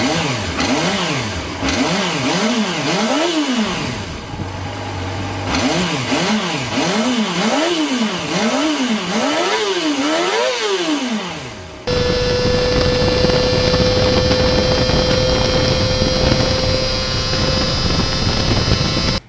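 A high-revving retro 1990s motorcycle engine screams through rapid, repeated rev climbs and drops, loud and close, then cuts to a steady, sustained high-pitched engine drone.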